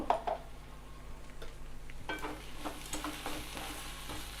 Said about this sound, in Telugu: మిక్స్ చేసుకుందాం. మీకు ఇంకా ఫ్రై కావాలంటే చేసుకోండి.